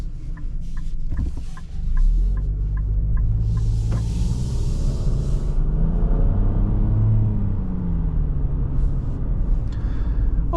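Steady road rumble and engine hum from a 2025 Nissan Rogue Rock Creek under way, moderately loud and continuous, with faint clicks early and a brief hiss partway through; nobody talks.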